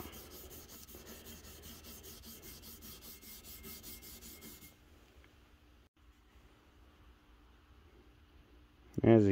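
Abrasive strips scrubbing the lobes of a Caterpillar RD-4 diesel engine camshaft in a crosswise X pattern, a steady close rasping rub for several seconds that thins out to quieter scraping, with a brief louder knock at the end.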